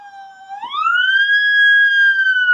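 A woman imitates a police siren with her voice, a single clear rising wail that climbs and then holds a steady high pitch, loud and close with no other sound.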